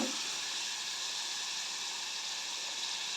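Onions, tomato and cabbage sautéing in a pan give a steady, even hiss of sizzling throughout, close and moderately loud with no break.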